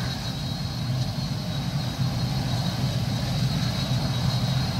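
Big 802 aircraft engine running near a runway apron, a steady, continuous droning roar that holds at a fairly loud, even level throughout with no pauses.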